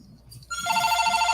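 A telephone starts ringing partway through with a steady electronic trill that continues to the end, loud and close, with faint room noise before it.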